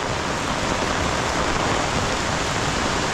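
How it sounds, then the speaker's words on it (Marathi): Heavy rain pours down at a waterfall in the Konkan region of India in a dense, unbroken roar, loud and constant throughout. "पाऊस जोराचा कोसळतोय"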